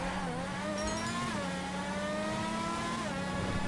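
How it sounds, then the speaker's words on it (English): A sports car in GTA 5 accelerates hard in a street race, its engine note climbing steadily through a sustained, loud rev with one shift dip partway, alone and close. "Car does have nasty acceleration."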